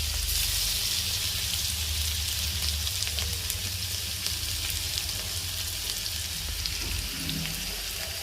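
Crushed garlic and mustard seeds sizzle steadily in hot oil, a continuous close, fairly loud frying hiss with scattered light pops and crackles throughout, no voices over it.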